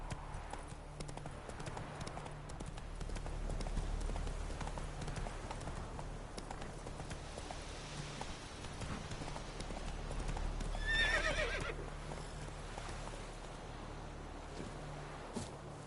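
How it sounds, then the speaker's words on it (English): A horse in a video game trots with steady clip-clop hooves, a neigh rising around the middle, over a soft wind and water ambience. "Whoa there, Roach"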